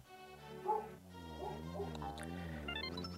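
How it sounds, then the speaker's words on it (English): A dog yips and whimpers indoors, faint and somewhat distant, a few short barks followed by wavering whiny cries over a low steady hum. "Dog, please be quiet"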